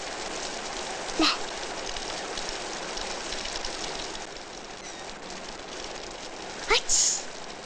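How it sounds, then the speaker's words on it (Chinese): Heavy rain falling in old Beijing: a dense, constant wash of downpour fills the scene, with a brief voice speaking over it. "下这么大雨，你怎么还出来？"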